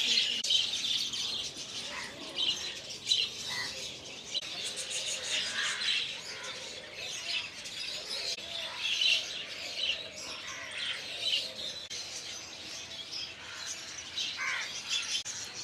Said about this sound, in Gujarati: આ રીતના અલગ અલગ પક્ષીઓના પિંજરા આવેલા છે